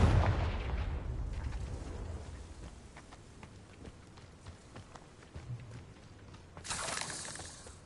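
A Confringo blasting spell explodes in a Harry Potter video game, opening with a loud, deep boom that fades into crackling debris and rumbling, then a second bright burst near the end.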